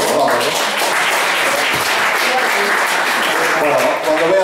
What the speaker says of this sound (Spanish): si queréis darle un aplauso, le dais